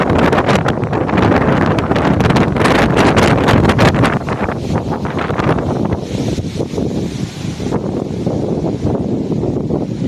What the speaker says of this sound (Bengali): খুব ঝড় উঠেছে, খুব ঝড় উঠেছে।